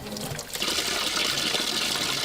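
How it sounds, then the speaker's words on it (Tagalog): Dark, discoloured water gushing from a freshly opened household tap, a loud, steady splashing rush heard up close without pause. "Pagbukas, bubulwakang maitim pa rin tubig."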